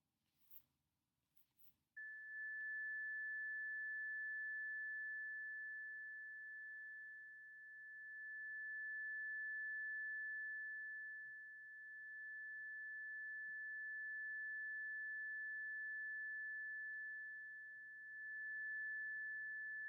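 After a few brief clicks, a steady pure sine tone sounds from two interfering sine waves, its loudness gently swelling and dipping as it drifts between louder and quieter.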